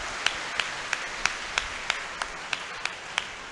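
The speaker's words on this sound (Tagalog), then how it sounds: "isa pa malakas na palakpak" A congregation at Sunday Mass claps a steady, evenly spaced beat, about three claps per second, moderately loud in a large church, with no talking over it.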